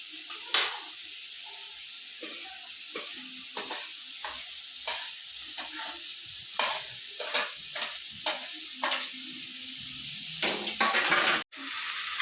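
Potatoes frying and being stirred in a pan, a steady sizzle with repeated scraping stirs throughout and clinks of a utensil against the pan, close and alone without talk.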